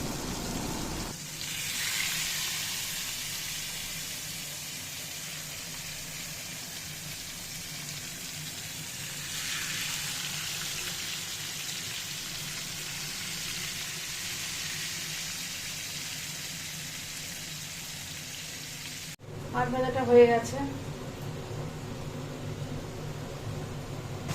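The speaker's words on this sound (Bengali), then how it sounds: "তেলটা খুব কড়া গরম করে এবার মাছটা আমি দিয়ে দিলাম" Fish dropped into very hot oil in a home kitchen, a continuous loud hiss and sizzle that runs steadily throughout, with a brief clatter near the end.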